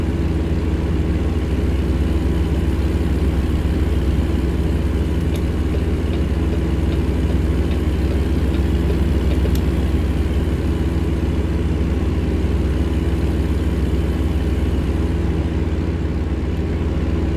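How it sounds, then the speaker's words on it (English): Kenworth W900 truck with a Caterpillar engine idles in American Truck Simulator, a loud, steady, even diesel rumble running unbroken throughout. "She does sound really good, doesn't she? Purring like a kitten. Which it should, because it's got a Caterpillar engine in there."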